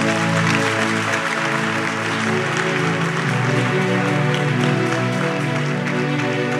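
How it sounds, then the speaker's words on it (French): Congregation at a church prayer service breaks into loud, sustained clapping and cheering that fills the room without pause, with steady musical tones ringing underneath. "Acclamez très fort."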